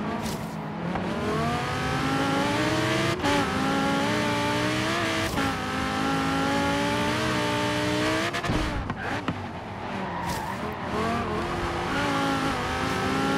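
An Audi R8 in Forza Horizon 3 drives with a steady, loud engine drone that rises and falls as it shifts through gears, with brief dips and surges and some tire noise throughout.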